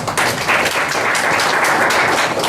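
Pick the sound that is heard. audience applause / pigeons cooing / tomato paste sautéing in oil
audience applause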